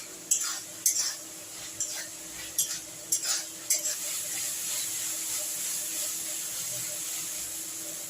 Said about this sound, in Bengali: এবার দেখুন মশলাটা কষাও হচ্ছে ফুলকপিও সেদ্ধ হচ্ছে গাজরও সেদ্ধ হয়ে গেছে ভাজতে ভাজতে মশলার সঙ্গেও কষার সঙ্গে সঙ্গে সিদ্ধ হয়ে যাচ্ছে